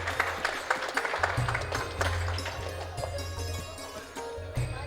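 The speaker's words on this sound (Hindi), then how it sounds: "एक बार फिर से हम इनको जोरदार तालियों से धन्यवाद करते हैं।" Applause from the audience at a Shree Ram Leela stage performance, steady dense clapping filling the room for the whole stretch, moderately loud with a low hum underneath.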